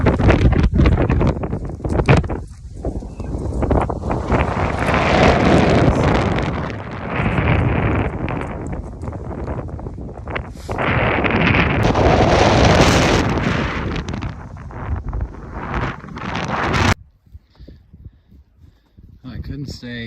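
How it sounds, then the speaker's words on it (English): Strong wind roars across the snowy summit of Vermont's third-highest mountain after a big snowstorm, buffeting the microphone in loud, gusting surges that swell and ease for about seventeen seconds before dropping off abruptly. "It was so windy, my hands like instantly froze up."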